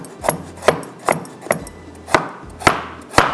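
A knife cuts carrots on a board in a steady, evenly spaced series of loud, close chops, about seven strokes with no talking.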